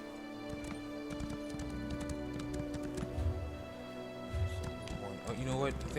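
Horse hooves clop in the Elder Scrolls Online video game, a steady run of quiet hoofbeats mixed under game music and talk, with a few louder thumps toward the end.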